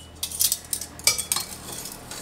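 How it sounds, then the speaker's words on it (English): A spoon stirring salt into vegetable broth in an Instant Pot, with repeated light metallic clinks and scrapes against the pot in a quick irregular rhythm. "Just give this a stir to dissolve all that salt"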